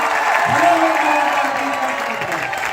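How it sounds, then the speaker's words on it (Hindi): Audience at a 19th anniversary event of a business group, heard as a dense wash of applause filling the room, with a voice speaking over it. "दोस्तों जोरदार तालियां"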